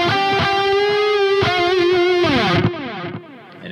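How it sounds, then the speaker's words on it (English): A distorted electric guitar, played for metal through a Neural DSP Quad Cortex, plays sustained chords and notes drenched in digital delay, echoes trailing off and repeating as the playing fades near the end. "let's do a digital delay"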